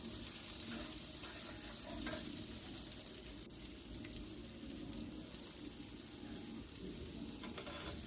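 Chopped tomatoes and onion fry in oil while being stirred, a steady soft sizzle with scraping and watery hiss running throughout, fairly quiet and without any talk.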